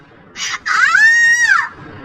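A woman screams in terror in a horror story: a short shrill burst, then a long, loud, sustained shriek that rises and falls before cutting off, with no other sound around it.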